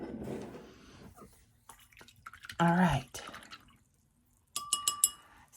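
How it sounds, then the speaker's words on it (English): A water bowl on a painting table clinks and scrapes briefly as it is moved, with a short spoken remark in between and quiet room sound around it. "I'm going to move my water bowl over here"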